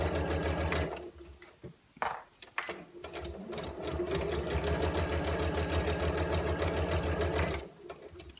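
Sewing machine running steadily back and forth to reinforce stitches on the pocket of a tablet case, a close, dense mechanical whir that pauses briefly near the start and then runs continuously for several seconds.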